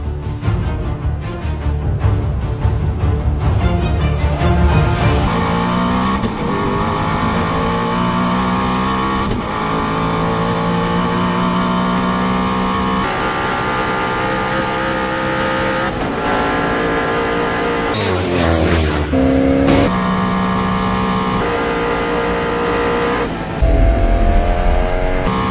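A 1160-horsepower Swedish supercar engine at very high speed, loud and close, with a sustained roar that climbs through rising gear pulls, brief drops at shifts and a final surge.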